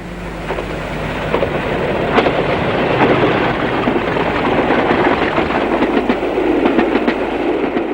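British Rail Class 40 diesel locomotive hauling a charter train between Crewe and Carlisle, a loud continuous roar with rhythmic clickety-clack of wheels over rail joints as it passes close by, with no voices.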